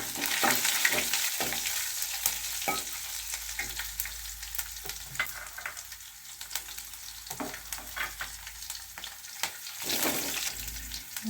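Chopped green chili and ginger fry in hot oil for a peas gravy, giving a steady, close sizzle with crackling pops and occasional stirring scrapes throughout.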